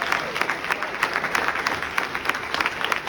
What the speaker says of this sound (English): Come on, keep clapping until she gets up here.